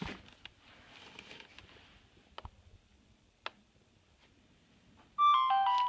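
An incoming SMS reply on a mobile phone sets off a short, loud, melodic notification tone near the end, after a few faint clicks and taps in a quiet room.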